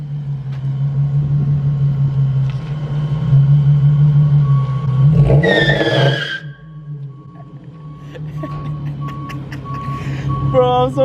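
A tuned Infiniti Q50 slides and spins on a wet road in the rain: a steady engine drone rises into a loud, sharp tire squeal around the middle, then eases back to idle hum, with faint chimes and beeps near the end.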